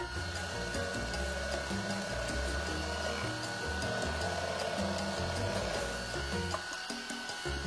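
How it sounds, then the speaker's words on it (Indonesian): Electric hand mixer beating coconut milk batter for steamed kue mangkok cakes, a steady close motor whirr with a slight rattle, running continuously with small shifts in pitch. "Mixer sampai tercampur rata."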